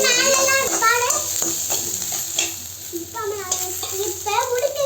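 Drumstick leaves and onion sautéing in a pan, a steady close sizzle with stirring scrapes throughout, while voices that sound like children chatter in the background.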